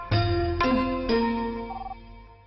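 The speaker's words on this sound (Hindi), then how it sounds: "तुम्हारे लिए फोन है" Landline telephone ringing in a Hindi-dubbed South Indian film, three bright electronic tone bursts in quick succession, loud and close, with no voices.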